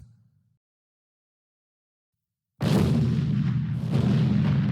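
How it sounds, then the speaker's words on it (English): After a brief low rumble and a few seconds of silence, a loud, sustained roar of booming blasts erupts, like heavy cannon fire continuing nonstop. "With cannons firing all around"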